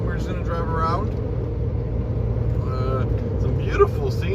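A new automatic truck cruises along, its steady low engine rumble and road noise filling the cab while someone talks over it throughout.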